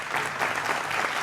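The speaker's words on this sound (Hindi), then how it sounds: "जोरदार तालियों से आप सबका अभिनंदन है।" Studio audience applause on a Hindi TV news debate show, a brief burst of steady, dense clapping from many hands with no voices over it.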